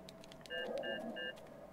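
Short electronic beeps from the video game Entropia Universe, three quick tonal chirps in a row, clear and alone over a faint background hum.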